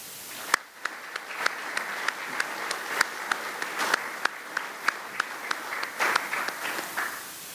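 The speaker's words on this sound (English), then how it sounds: "Ladies and gentlemen, join me in a round of applause for the Army's newest second lieutenants." Applause for newly commissioned Army second lieutenants at a university ROTC commissioning ceremony, a moderate crowd clapping with distinct sharp individual claps standing out over the continuous patter.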